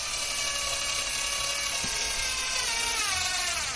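A power drill whirs continuously during kitchen renovation work, a steady high mechanical whine running throughout at close range with no talking.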